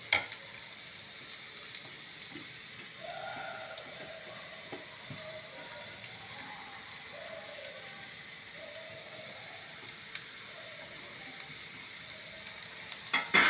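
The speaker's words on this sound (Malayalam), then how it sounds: "ഞാൻ ഇതിനെ നെയ്യിൽ ഇത്തിരി ഫ്രൈ ചെയ്യട്ടോ" Something fries in ghee in a pan, giving a steady close sizzle with soft bubbling and a few clinks of stirring, continuous and without talk.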